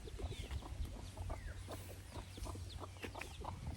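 Chickens and a rooster cluck softly in a scattered, overlapping chorus at a distance, with a low steady hum in the background and no talking.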